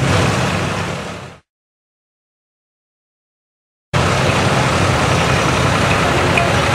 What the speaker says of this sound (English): Rick Doney's driving the tractor, a proud employee.